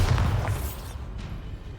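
A Bombarda explosion spell from the Hogwarts Legacy video game goes off as a loud, close boom with a deep rumbling low end that fades over about two seconds.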